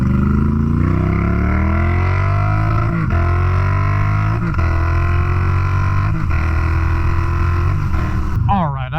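A Moto Guzzi V7 motorcycle engine runs loud and close while riding, with repeated rising revs through the gears and a steady throbbing drone, ending with a brief clatter.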